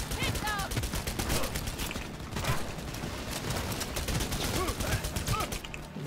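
Rapid automatic gunfire in the video game Cyberpunk 2077, dense bursts of shots and weapon mechanics rattling continuously at moderate level, with game voices and chatter mixed in.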